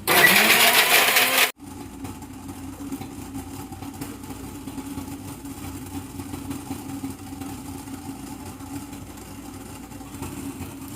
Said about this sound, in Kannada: ಸೊ ಎಲ್ಲದನ್ನು ನಾನು ಫಸ್ಟ್ ಇದನ್ನ ಮಿಕ್ಸಿ ಮಾಡ್ತೀನಿ